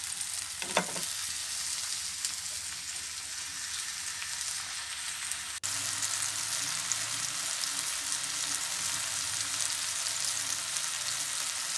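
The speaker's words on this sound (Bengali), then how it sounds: "দিয়ে দিচ্ছি আমি বেটে রাখা সেই মশলাটি। আবারও খুব ভালো করে আমি নাড়িয়ে নিচ্ছি।" Ground spice paste sizzles and fries steadily in a pan for a potato curry with new winter potatoes and spring onions, with a brief scrape of stirring near the start and a continuous dense hiss throughout.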